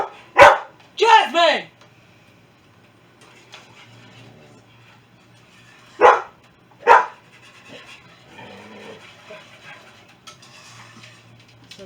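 A dog in a home kitchen barks in two short bursts of two or three loud, sharp barks, separated by a quiet gap with faint kitchen clatter, while a person calls out briefly.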